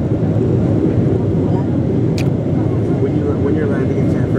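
Philippine Airlines passenger airplane cabin noise while landing at San Francisco, a loud continuous engine and airflow roar that stays steady throughout, with a brief faint click partway through.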